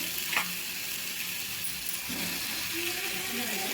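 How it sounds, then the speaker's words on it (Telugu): Bottle gourd and tomato pieces fry in a pan with a steady, soft sizzle that runs throughout, joined by a few faint scrapes and light clinks. "సొరకాయ ముక్కలు అయితే లైట్గా వేగాయండి"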